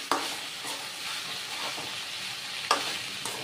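Okra (ladyfinger) frying in a pan, a steady close sizzle and hiss with a couple of sharp clinks of a utensil or lid, no voices.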